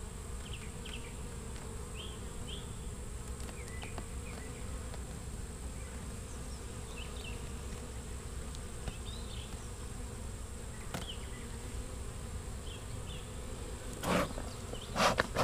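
Honeybees buzz steadily inside a long Langstroth hive, a dense continuous drone with a few louder passes close by near the end.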